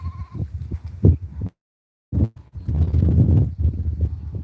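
A flock of sheep bleats while walking along a road near a custard apple orchard, with loud overlapping close calls broken by a short silence.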